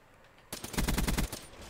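Rapid automatic fire from the ICR-1 assault rifle in the video game Black Ops 3, a loud burst of about ten close shots in quick even rhythm, with quiet game ambience before and after.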